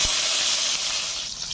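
Potatoes fry in mustard oil in a wok, giving off a loud, steady sizzling hiss close by after a brief sharp crackle at the start, with no voices.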